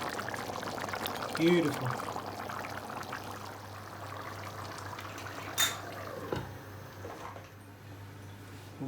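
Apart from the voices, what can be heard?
mutton yukhni pilau rice bubbling in the pot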